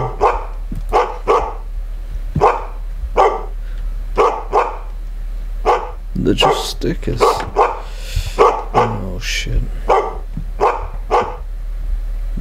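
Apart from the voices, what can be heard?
dog named Ace barking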